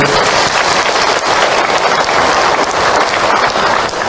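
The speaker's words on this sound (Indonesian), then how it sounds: "Tepuk tangan untuk Ahilman, Ibu." Loud, dense applause from the audience at an Islamic lecture on Isra Mi'raj, many hands clapping in a continuous close roar that holds steady throughout.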